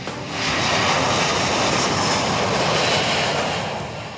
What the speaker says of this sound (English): Wheels down, the 437 settles back to Earth